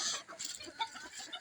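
Chickens in a backyard flock give soft, scattered clucks that sound fairly faint and close, with no voices.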